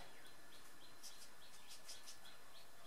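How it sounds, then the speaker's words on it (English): Birds sing outdoors on a mild spring day, a scattering of faint, high chirps and short tweets repeating at irregular intervals over a soft, steady background hush. "it's spring, almost warm enough outside, and birds singing"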